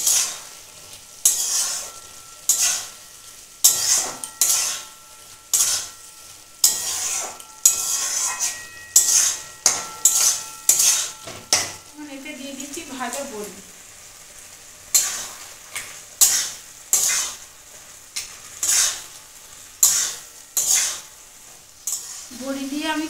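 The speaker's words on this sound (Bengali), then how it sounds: "চিনি দিয়ে এটাকে আবার আমি নেড়ে নিচ্ছি।" Bottle gourd shukto, a Bengali-style dish, is stirred in a pan after sugar goes in, with loud, rhythmic spatula strokes scraping the metal again and again over a soft simmer.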